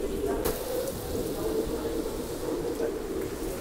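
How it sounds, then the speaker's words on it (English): Steady rain and a constant low, blustery rumble of wind on a cruise ship at sea, continuous and fairly loud, with no talking. "You can hear the wind howling, you guys."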